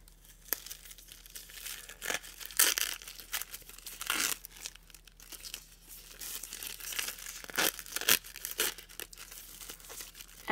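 An Always Radiant liner wrapper is opened up close, giving crisp plastic crinkling and short tearing rips in irregular bursts over several seconds, fairly quiet with no talking.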